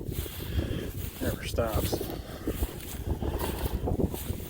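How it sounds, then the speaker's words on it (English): Wind gusting outdoors near a reservation campsite, a steady rushing buffet on the microphone throughout, with someone talking briefly over it. "Here's the wind."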